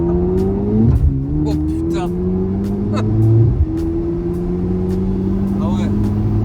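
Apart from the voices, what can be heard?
Porsche engine revving during launch acceleration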